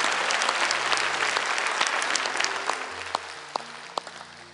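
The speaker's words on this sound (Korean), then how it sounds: "이렇게 역사하신 하나님께 영광의 박수 올려드립니다" A church congregation at a Korean service claps together, a full, steady burst of applause that gradually fades, while sustained keyboard or organ notes rise underneath toward the end.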